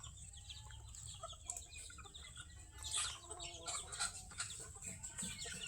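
Chicks and hens cluck and chirp softly while feeding on a farm, with scattered peeps and a few louder calls over a steady low background murmur.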